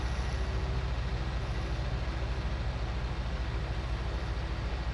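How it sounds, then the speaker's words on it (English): Tractor engine in Farming Simulator 19, heard as a steady, unbroken low drone with a faint high whine above it, constant in level for the whole stretch, with no talking. "I wish it changed the sound if you could hear the tractor more from the outside when you open the door."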